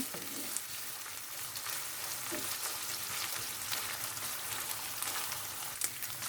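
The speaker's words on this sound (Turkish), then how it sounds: "İçerisine 250 gram orta yağlı kıymamı ilave ediyorum. Kavuralım. Kıymam kavrulmaya başladı gördüğünüz gibi." 250 g of medium-fat minced meat frying in a hot pan, a dense, steady close sizzle with soft crackling and occasional stirring scrapes, no voices.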